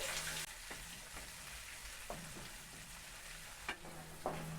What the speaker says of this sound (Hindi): सारे पेस्ट को अच्छे से मिक्स कर लेंगे